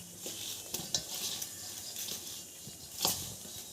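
Desi ghee is worked into flour with a spoon in a bowl, close and quiet: soft scraping and stirring with a few sharper clicks and taps, no voices.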